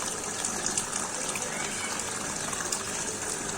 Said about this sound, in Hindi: ये मैंने देखो स्टार्ट किया और ये फाउंटेन